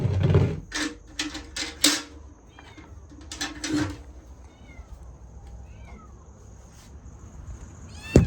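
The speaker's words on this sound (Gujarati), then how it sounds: "મીંદડું જોઈએ સીધું પગમાં જાય છે" A cat meows several times close by, circling someone's feet as a door opens in a home where milk is being carried; the calls are short and scattered over clattering and knocking household noises.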